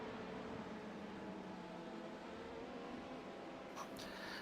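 Race car engine in a sim racing endurance event, with an LMP-class prototype tearing past GT cars, heard as a steady, faint, buzzing engine drone with a brief higher whine near the end.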